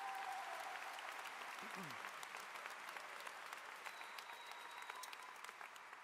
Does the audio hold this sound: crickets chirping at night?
no